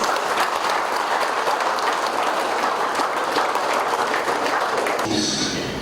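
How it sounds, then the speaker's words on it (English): A dense, steady wash of clapping fills the room at a Fijian rugby evening announcing the men's and women's sevens teams, holding loud for about five seconds before cutting off sharply. "Please round of applause"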